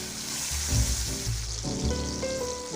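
Tomatoes sizzle and fry in hot oil in a pan for a Nagamese fish curry with bamboo shoot and ghost chilli, a steady crackle with heavier surges as they are stirred, no talking.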